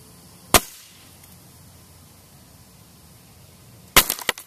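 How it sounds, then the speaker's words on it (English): Two suppressed shots from a Smith & Wesson M&P 22 pistol fitted with an SWR Spectre 2 suppressor, a single sharp crack, then a pause and a second crack followed by quick echoes. "Smith & Wesson M&P 22, SWR Spectre 2."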